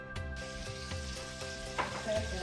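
Bacon frying in a pan on the first morning of a Colorado vacation, a close, steady crackling sizzle with occasional pops and stirring sounds.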